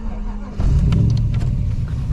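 A car engine idles low, then revs up sharply into a loud, deep rumbling roar that holds close by.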